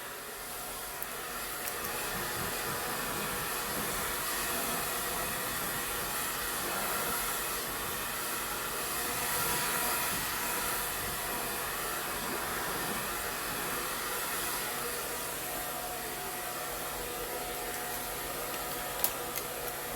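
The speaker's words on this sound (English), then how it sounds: "with my blow dryer" A blow dryer with no diffuser or other attachment runs during a salon silk press to loosen curls, giving a steady, unbroken rushing whoosh of air for the full twenty seconds.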